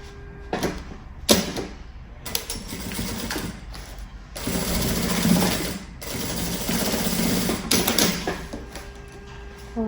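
A sewing machine stitches a backpack seam in several close, loud runs of rapid buzzing, broken by short pauses and clunks as the fabric is shifted; no talking.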